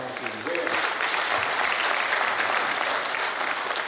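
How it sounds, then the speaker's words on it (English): A crowd at a groundbreaking ceremony for a plant breaks into steady, full applause that swells after the opening moment and holds evenly to the end. "I think a round of applause to the Ranjan team"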